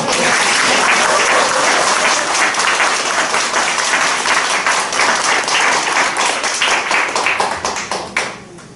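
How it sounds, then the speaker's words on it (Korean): An audience at a university lecture on election strategy bursts into loud, dense applause that holds steady for several seconds, then thins and fades quickly at the end. "중간에 박수 한번 보여주세요"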